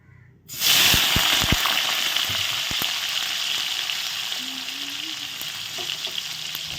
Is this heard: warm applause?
no